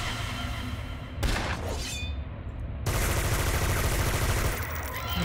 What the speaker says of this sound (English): We still have that ghost gun. And it still works.